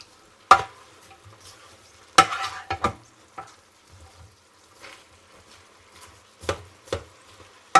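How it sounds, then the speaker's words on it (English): Quiet sizzling of two sliced onions in a pan with a few sharp scraping, stirring clatters spread across the clip, no voices. "we'll give the whole thing a bit of a stir."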